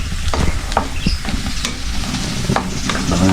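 Chili frying in a pan with stirring, a steady close sizzle broken by repeated scraping strokes across the pan's surface.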